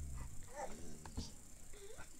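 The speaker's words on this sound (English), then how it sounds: "Those are dogs. Your dog's mad." Dogs in a mansion let out low, muffled whines and short growling yelps, faint and somewhat distant under a steady background rumble.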